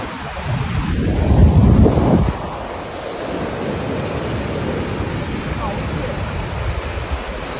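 Ocean surf washing in at Pura Tanah Lot in Bali, one big wave breaking loudly near the start, then a steady broad rush of water with wind buffeting the microphone.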